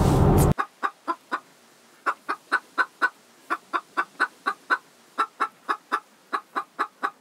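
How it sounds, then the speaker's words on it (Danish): Hens outside a countryside kiosk give a run of short, sharp clucks in quick, uneven bursts, close and clear against a quiet background after a brief loud noise at the start. "der er vi kommet på landet, når hønsene de går ude foran kiosken"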